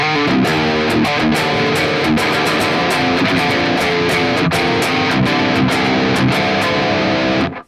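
Metalcore electric guitar riff picked hard through a lowered-gain distorted amp, loud and dense with fast palm-muted chugs and ringing chords, playing continuously alone before cutting off abruptly at the end.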